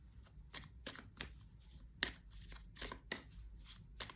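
Angel oracle cards being shuffled by hand, a steady run of soft riffling flutters at roughly even intervals, close and fairly quiet, with no voices.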